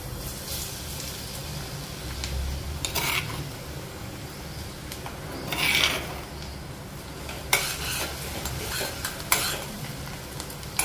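Crushed garlic hits hot seasoning oil with fenugreek seeds for amla pickle, giving a steady close sizzle with a few louder pan scrapes and stirring clinks over about ten seconds, and no talking.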